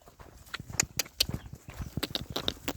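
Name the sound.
oxen walking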